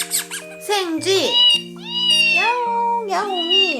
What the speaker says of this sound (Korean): 야옹 야옹이